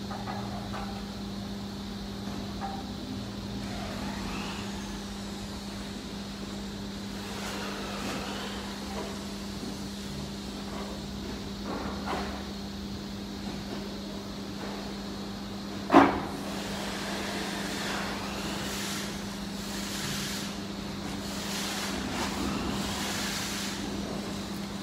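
A 4 kW, 5.5 HP, 4-pole electric motor running at 1,400 RPM on a factory test machine, a steady low mechanical hum with a constant tone, plus faint workshop noise and one sharp knock.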